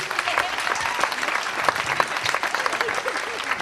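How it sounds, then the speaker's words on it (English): A studio audience at a Newlywed Game-style game show applauds steadily and fairly close, dense clapping with a few sharper hand claps standing out, sustained at even loudness throughout. "A round of applause, ladies and gentlemen."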